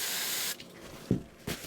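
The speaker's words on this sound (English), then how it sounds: "Let's spray it down with some fluorocarbons" A steady hiss from an electronics cleaner spray can sprays for about half a second and then cuts off, leaving a couple of soft, low knocks and a quiet room.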